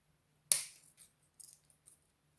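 Scissors snip through a dry palm leaf with one sharp, close crunch followed by a few fainter rustling cuts and handling sounds in a quiet room.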